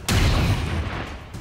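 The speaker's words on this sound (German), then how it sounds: "Mach mal einen heftigen Schuss auf den." A single loud gunshot-like boom in XCOM 2 with a sharp onset, ringing out and decaying over about a second.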